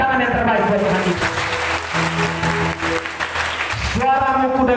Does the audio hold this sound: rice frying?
no